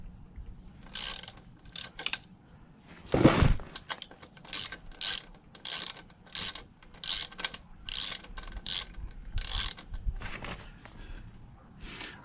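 A ratchet working bolts loose on a Honda CB125F motorcycle during engine disassembly: bursts of rapid clicking repeat about every second, close and clear, with a heavier clunk early on and no talking.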